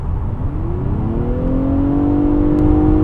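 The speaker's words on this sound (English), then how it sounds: "The engine has a nice sound" A car priced around $45,000 revving steadily, its engine note rising smoothly and growing louder over a few seconds, heard from inside the cabin with no talk.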